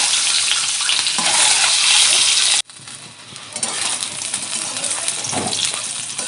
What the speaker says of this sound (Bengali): ডিম কারি করলে ডিমগুলোকে লাল লাল করে ভালো করে ভেজে নিতে হবে।